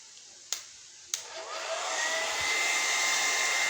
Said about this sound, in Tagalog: Blower lang po buhok.